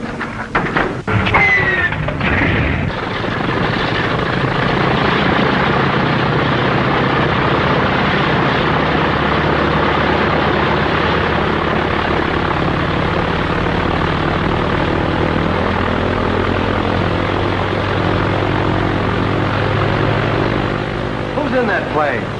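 A propeller airplane engine roars steadily and loudly during takeoff, a dense continuous drone that holds its strength for the whole stretch.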